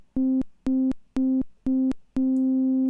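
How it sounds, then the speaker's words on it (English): A buzzy square-wave tone from a VCV Rack synthesizer oscillator pulses on and off four times in an even rhythm, then holds steady, each burst starting sharp and fading slightly. "or square, where it's just going to oscillate between the minimum and maximum."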